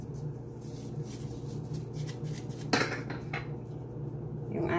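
A utensil stirs a chicken marinade of ginger, garlic, rice vinegar, salt, sesame oil and spring onion in a bowl for steamed chicken, giving soft continuous scraping and one brighter clink over a steady low hum.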